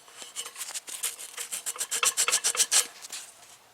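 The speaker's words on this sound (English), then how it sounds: "Also wet sanded this with 320." Car valve covers for a Camaro LS engine are wet sanded by hand with 320-grit sandpaper, a close, rhythmic rasping of quick back-and-forth strokes that builds in pace and loudness before easing off.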